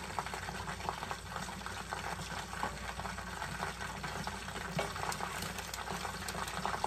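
Bihon rice noodles stirred in a pan of bubbling liquid for Filipino pancit, a steady wet simmering and sizzling hiss with occasional soft scrapes and clinks, continuous and close, without talk.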